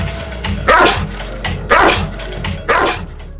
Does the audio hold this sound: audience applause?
no